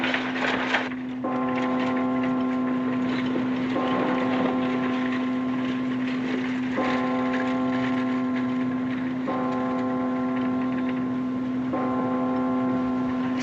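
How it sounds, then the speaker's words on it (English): A church bell tolls repeatedly on a Sunday in a western town, each strike ringing out with a long resonant hum, spaced a few seconds apart over a steady, windy background. "Something peaceful about a church bell, isn't there"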